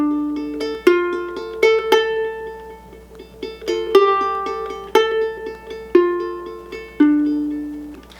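Solo ukulele picks out the St James Infirmary melody, plucked notes ringing clearly with sustained tones and accented attacks roughly once per second, played alone.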